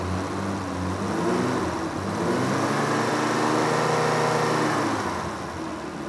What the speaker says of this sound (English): I don't know how well you guys can hear this engine, but it's running pretty good